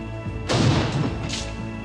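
Cannon fire in a dramatized battle on open plain under Republican artillery: a single heavy booming crash with a rumbling, noisy tail, loud and close.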